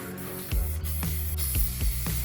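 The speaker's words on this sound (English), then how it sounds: "We're just gonna kind of attempt to spray paint the walls" Garage walls are being sprayed from an aerosol spray can in short bursts, a close steady hiss broken by about four sharp rattling clicks of the can, with no voices.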